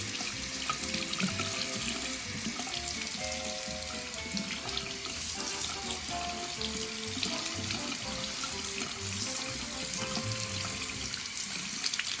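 Tap water runs steadily into a sink while a tie-dye shirt is rinsed, a continuous close splashing rush with no one speaking.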